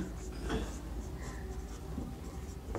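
Chalk or marker scratches across a board in short, close strokes, set against a muffled room hum with faint talking in the background.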